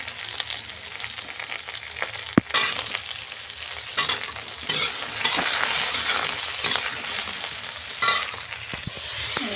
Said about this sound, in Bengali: পটলগুলো ভাজা হয়ে গেছে, একটু আলুগুলো দিয়ে দেবো। আলুগুলো একটু ভেজে নেবো।